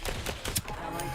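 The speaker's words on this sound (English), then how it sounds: "I'm just shooting people left, right, and centre." Rapid gunfire in the spy shooter game Deceive Inc., a short burst of close shots in quick succession with a louder crack midway, set against game background noise.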